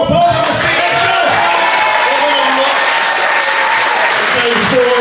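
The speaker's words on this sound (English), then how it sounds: "Let's give one more round of applause" Loud, full room applause with some cheering at the close of a six-week class session, continuous and close, with voices murmuring underneath.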